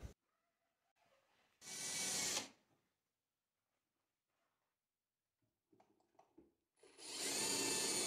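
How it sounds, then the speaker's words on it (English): A power drill whirs in two loud bursts separated by a quiet pause, pre-drilling holes into a live oak hardwood tabletop, with light handling clicks and knocks between the runs. "I need to pre-drill those holes into the top surface of the table"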